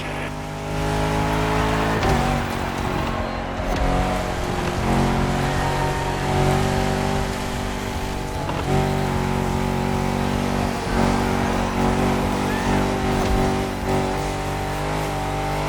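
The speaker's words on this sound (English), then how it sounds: "I see you've embarked on a 4x4 race through the jungle" A 4x4 off-road car in The Crew Motorfest video game roars through jungle, its engine droning loudly and continuously with revs rising and falling, close and dominant throughout.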